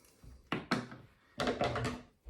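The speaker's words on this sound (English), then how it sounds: "simply just cut through the chicken all the way up through its back and its ribs" Standard kitchen scissors crunch through a raw chicken's backbone and ribs, giving a few close, dull snapping cuts in two short bursts separated by a pause, with no talking.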